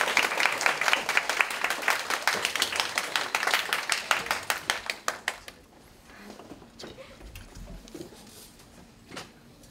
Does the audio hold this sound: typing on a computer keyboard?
no